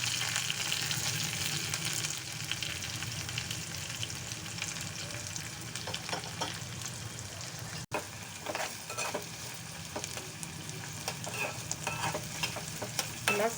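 Onions, green chilies and curry leaves frying on a low flame, a continuous soft sizzle with scattered crackles and light stirring scrapes, close and steady throughout.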